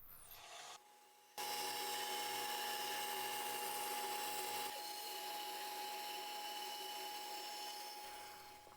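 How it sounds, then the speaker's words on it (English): A brief high whir of a drill boring alignment holes, then a loud, steady machine hum of a bandsaw cutting wood that continues for several seconds before tapering off. "I could drill out the alignment holes and cut off the excess material at the bandsaw."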